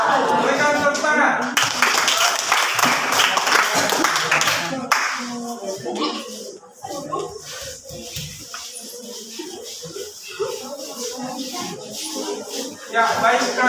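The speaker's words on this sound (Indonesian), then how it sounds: "Berikan tepuk tangan." A classroom audience claps after a group presentation, a dense burst of applause that fades after a few seconds into a person talking.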